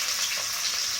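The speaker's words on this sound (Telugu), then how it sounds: "ఈ ఆయిల్లోకి నేను ఆనియన్స్ వేసేసుకుంటున్నా" Onions frying in hot oil for coconut rice with green chicken, a steady bright sizzle that stays loud and even throughout, with no talking.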